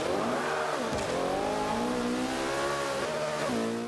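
A McLaren P1 engine revs hard in Forza 5, with a loud, continuous whine that climbs in pitch and drops sharply on each gear change, about three shifts across the run, with no talk over it.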